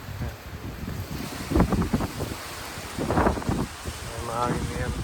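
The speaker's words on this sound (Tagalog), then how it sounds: "Mahangin na yan." Wind blows outdoors around pine trees shedding yellow dust, a steady rushing buffet against the microphone with low rumble, while voices talk briefly over it.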